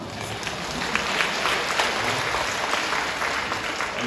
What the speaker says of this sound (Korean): 박수 받을 일인지 모르겠습니다만